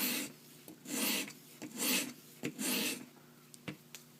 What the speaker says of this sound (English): I'm going to make a couple passes with my stone and see how I'm cleaning up